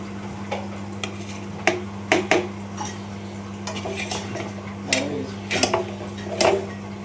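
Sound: stirring and mixing chowmein with carrot and cucumber

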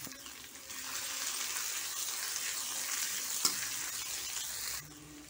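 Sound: onions frying in oil on low flame

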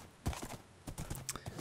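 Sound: horse hooves in Minecraft video game

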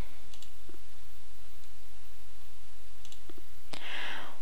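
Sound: computer mouse click on export PDF button

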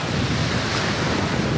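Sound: ocean waves at a beach resort

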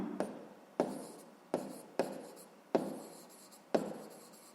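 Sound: writing a math solution by hand

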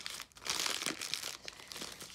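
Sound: opening a tough paper envelope

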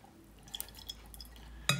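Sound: juice dripping from tinned oranges draining in a sieve

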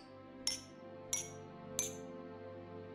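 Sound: glasses with different amounts of water struck like bells

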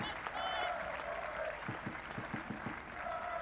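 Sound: applause for injured player limping off the pitch

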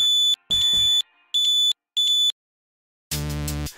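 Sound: DIY clothespin security alarm buzzer going off

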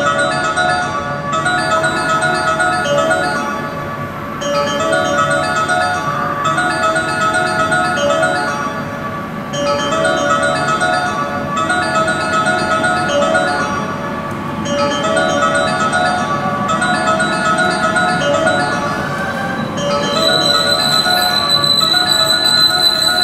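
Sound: train departure melody at Osaka Station underground platform

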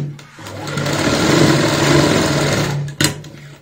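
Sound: sewing machine stitching elastic on a baby frock

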